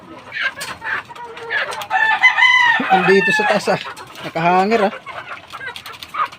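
Chickens at a Filipino poultry yard cluck and a rooster crows nearby, loud and repeated, while a person talks over them.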